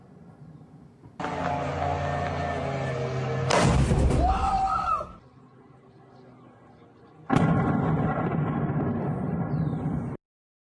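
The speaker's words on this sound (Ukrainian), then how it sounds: "Вибухи у місті лунають вже другу добу." Two long stretches of loud, rumbling blasts with crackling bursts, separated by a quieter gap, like heavy detonations echoing nearby in a city during a drone attack in Russia.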